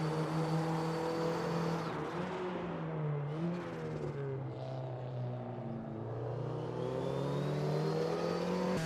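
A Porsche 944 Cup race car in Raceroom Racing pulls out of the pits, its engine whining and revving steadily close by as it accelerates, with no talking.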